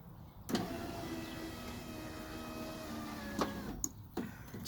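A car's electric power window motor lowering the glass all the way down, a steady mid-level whirring hum running for about three seconds between sharp clicks at start and stop, close by with no talk.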